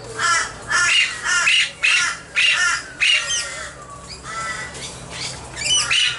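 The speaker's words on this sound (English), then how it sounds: "Princess parrots." Princess parrots squawking in a busy aviary, a string of about a dozen loud, harsh calls in quick bursts, close by and with no talking.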